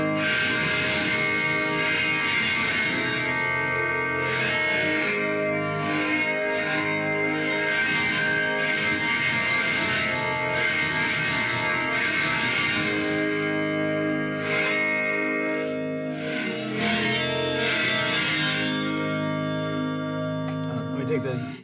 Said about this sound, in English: I want a shoegaze reverb, and I'm going to put it before the distortion.